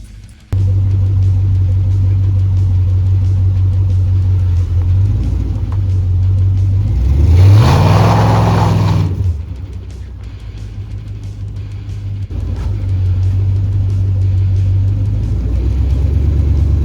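An LS-swapped Chevrolet Caprice makes a full-throttle pull down a street, its loud, deep engine drone rising to a roaring peak in the middle, then easing off and settling back to a steady rumble.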